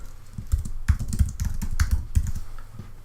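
A run of computer keyboard keystrokes while typing a word in a design program, clicking in quick irregular bursts with short pauses, close and fairly loud, no talking.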